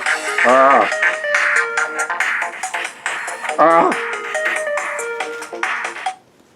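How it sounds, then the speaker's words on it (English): A melodic phone ringtone plays repeatedly, a bright chiming tune with quick warbling trills, fairly loud and close, before stopping abruptly. "My telephone. I didn't turn off the sound."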